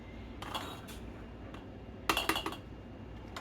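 Beans for ham and navy bean soup are spooned into glass canning jars, with a few soft scrapes followed by a quick run of bright clinks of spoon against glass, close and fairly quiet.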